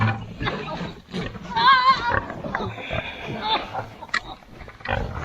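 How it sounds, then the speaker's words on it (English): A huge sow of around 700 to 800 pounds grunts and squeals inside a trailer at close range, in short irregular bursts mixed with clattering, while people talk over it. "So I caught this pig by myself."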